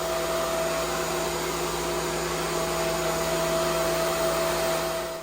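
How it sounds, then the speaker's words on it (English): A planer shaves a live-edge walnut slab with a loud steady whine and roar, holding a constant pitch for several seconds without pause. "I just kept passing it through until the entire surface of the slab was planed."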